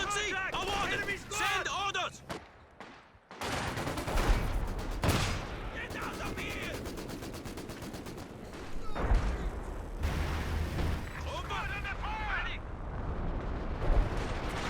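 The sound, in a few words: LFH howitzer artillery fire in the video game Company of Heroes 2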